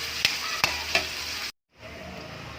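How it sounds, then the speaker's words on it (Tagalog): Marinated pork sautéing in a pan crackles with a loud, dense sizzle and three soft knocks of stirring, then cuts out briefly before the frying hiss returns, no talking. "Unahin muna natin igisa yung ating karne."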